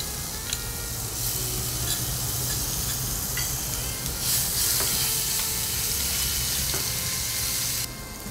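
Ginger garlic chili paste sizzles hard with cumin in a hot pan, a steady loud frying hiss with occasional stirring scrapes and no talking.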